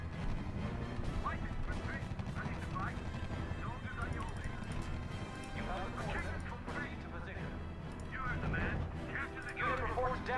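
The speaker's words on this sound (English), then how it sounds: "Unit reports heavy fire." Heavy gunfire and artillery rumble on through a R.U.S.E. battle, a steady dense mass of distant impacts and crashes, with a radio-style voice speaking over the din.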